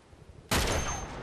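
A single sharp burst of video-game gunfire erupts out of near quiet, loud and close, then trails off into a lingering ringing tail.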